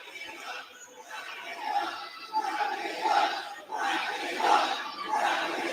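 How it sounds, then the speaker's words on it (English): Wrestling arena crowd at a live AEW Dynamite event chanting in rising and falling waves, a large roaring mass of voices swelling in rhythmic surges. "I'm not sure what the crowd's saying right now."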